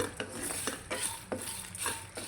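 Red chillies frying and being stirred in a pan for stuffed brinjal curry, with repeated scraping strokes of a utensil against the pan over a soft background hiss, fairly close.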